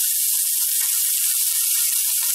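Carrots and cabbage sizzling in a pan, giving a steady, bright, close frying hiss throughout with no voices.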